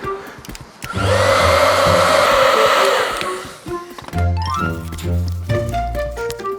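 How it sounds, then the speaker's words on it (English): A Dremel rotary tool grinds down the inside edge of a part during a Mini Cooper S R53 restoration, giving a loud, steady high whine for about two seconds before it winds down and gives way to quieter clatter. "I just used the Dremel to grind down the inside edge a little"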